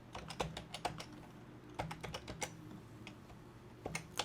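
Password typed on a computer keyboard for a Mac virtual machine: close, crisp key clicks in irregular bursts, with short pauses between runs of keystrokes.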